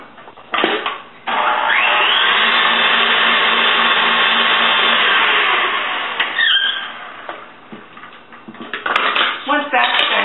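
An electric mixer whirs loudly and steadily as it beats cream cheese and eggs for whisky date cakes, cutting in with a clatter and running for several seconds before slowing, with brief bowl clinks and kitchen sounds around it.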